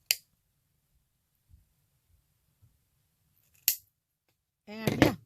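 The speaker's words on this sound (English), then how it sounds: "So I'm just going to cut it." Scissors snipping through paperclip tassel loops, several sharp, close clicks spaced across quiet moments, followed by a short burst of louder rustling at the end.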